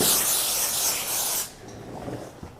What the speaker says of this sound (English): I'm gonna go ahead and spray this and just make sure you get good coverage on all the interiors of the mold.